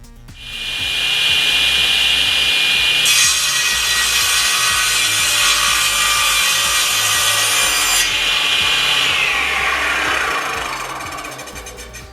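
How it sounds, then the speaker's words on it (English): A SIP 10-inch cast iron table saw makes an angled cut through wood: a loud, steady whine that runs alone, thickening into a harsher bite for several seconds mid-cut before the blade spins on and slowly fades. "to do an angled cut, we can just set the slide to that position, bring our wood in and do the cut"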